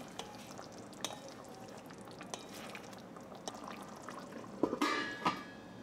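Water poured into a pan of Bengali spicy liver curry (liver kosha), a soft splashing trickle with light clinks of the pan, a louder gush near the end, quiet and close.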